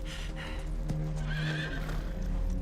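A horse's hooves clip-clop close by while it gives a loud whinny, with steady outdoor ambience and faint background voices.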